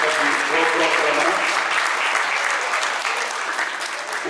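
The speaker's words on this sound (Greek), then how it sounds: "Ένα θερμό χειροκρότημα στα παιδιά μας" Warm, sustained applause for children at a St Demetrios March 25 celebration, a dense crowd clapping continuously and loudly, with a voice briefly audible over it early on before the clapping slowly tapers.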